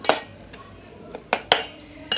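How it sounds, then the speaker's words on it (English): A spoon clanks against a pot while corn and beans are stirred, giving a few sharp metallic knocks spaced irregularly, close up with quiet gaps between them and no voices. "you need to give them a beautiful stir"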